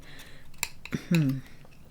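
A butter knife cuts food on a plate at a seafood meal of dressed oysters. It gives a few short metallic scrapes and clinks close up, with faint voices in the background.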